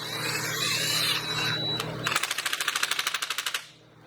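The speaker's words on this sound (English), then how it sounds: "grab this impact gun, and just carefully and slowly, using a 21 millimeter hex socket, thread that in" An impact gun fitted with a 21 millimeter hex socket threads in a motorcycle suspension part, first spinning with a whine, then a close, loud rapid train of hammering clicks for about a second and a half before stopping.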